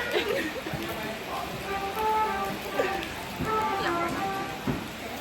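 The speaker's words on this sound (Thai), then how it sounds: "ฝนตกพี่น้อง" Rain falls steadily with a constant wash of patter while several people talk and chatter nearby throughout.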